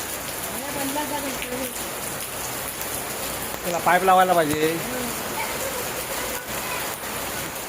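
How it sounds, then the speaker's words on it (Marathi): Steady May rain in the Konkan region, just begun, pours down with a soft, even hiss, while someone speaks briefly over it partway through. "पाऊस बघा आत्ताच नुकतीच सुरुवात झाली"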